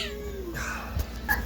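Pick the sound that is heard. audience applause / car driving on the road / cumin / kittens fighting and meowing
kittens fighting and meowing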